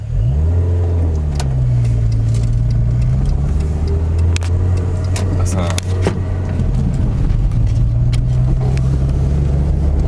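A Citroen BX 1.9i, left abandoned in a parking lot for six months, is driven: its engine hums steadily in a low drone and rises and falls gently with shifts in throttle, loud and close, while someone speaks briefly over it.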